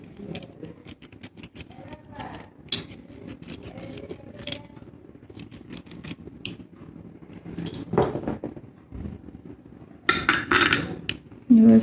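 A brush scrubs a white conch-shell bangle in short, uneven bursts of scratchy, clicking strokes that grow louder toward the end, with a person talking throughout.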